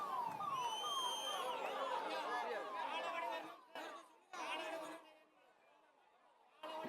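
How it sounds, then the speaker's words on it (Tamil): An ambulance siren wails with rising and falling sweeps through a chattering outdoor crowd at a political rally. Someone talks over a loudspeaker and the siren cuts in and out. "எனவே உங்களை எல்லாம் ஆம்புலன்ஸ் வழி விட்டுருங்க."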